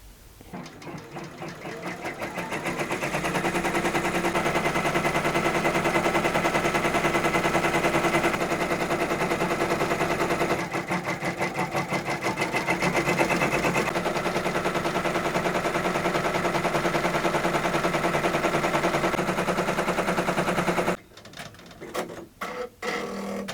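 An embroidery sewing machine stitches an organza butterfly with a fast, continuous mechanical chatter, loud and close, holding steady for about twenty seconds before stopping and giving way to a few scattered clicks.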